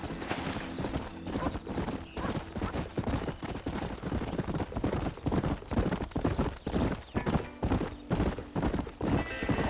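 Horses ridden at a steady pace in the Red Dead Redemption video game: continuous, rhythmic clip-clop of hooves, loud and close, with occasional whinnies across the whole stretch.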